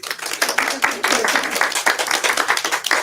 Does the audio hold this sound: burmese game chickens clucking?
no